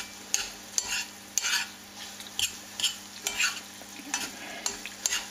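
Apples cook in a pan and a utensil stirs them, giving soft scraping strokes and clacks over a low, steady sizzle. The sound is fairly faint and close, with no voices.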